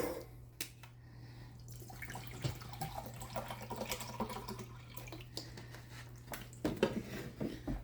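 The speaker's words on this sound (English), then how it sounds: "I am going to add a cup of water" A cup of water is poured into a crock pot in a home kitchen, a soft running trickle with a few drips and clinks, fairly quiet and close.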